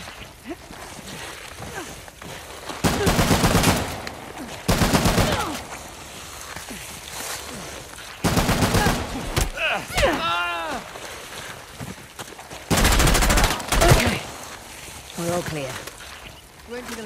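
Bursts of gunfire ring out in the Uncharted: The Lost Legacy video game, several loud volleys spaced across the span amid wind and ambient noise, with characters speaking in between.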